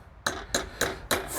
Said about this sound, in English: take 2 little nails, hammer them into the end of the